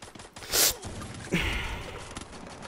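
Sniper rifle fired in the mobile battle-royale game Free Fire: a loud broadband burst early on, then a sharp crack with a lingering, fading tail, no voices.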